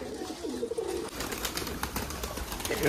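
Pigeons kept by a hobby breeder coo in a dense, continuous texture under other background noise, several birds overlapping without clear breaks.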